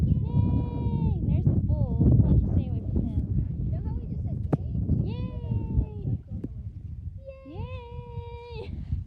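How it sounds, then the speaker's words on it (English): Black Angus cows and their calves call outdoors with several drawn-out, wavering moos and bawls in three bursts, close by over a busy background with people talking. "black Angus cows. Hi, Buddy. It's your little calf."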